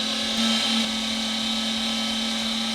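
A meat grinder fitted with a regular grind plate runs steadily, grinding breakfast sausage meat a second time, giving a continuous loud motor whine with no talk.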